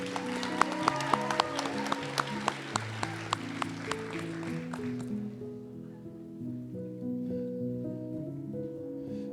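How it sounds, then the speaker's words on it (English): An audience at a nursing school white coat ceremony claps for a group of students, with sharp scattered claps over music that fade out after about five seconds. "A round of applause for this great group of our Lambeth students"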